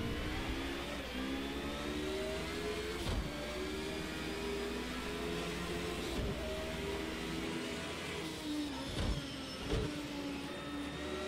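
In Project Cars 2, a race car revs hard through a sweeping track chasing Pagani Zondas, its engine whine climbing through gears with brief dips at shifts around three, six and nine seconds, steady and prominent.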